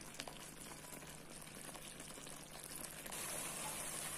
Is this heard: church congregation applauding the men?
no